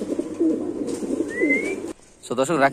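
Pakistani Golden pigeons cooing at a pigeon farm, soft throaty coos repeated close by among a busy background of other birds, with a voice talking over part of it.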